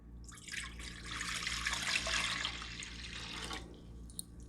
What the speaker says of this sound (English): We're just gonna pour it in.